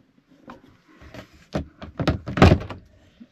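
A bathroom door, just rehung after a hinge repair, swings and shuts in a few close knocks and thumps that build to one firmer closing bump, with no talk.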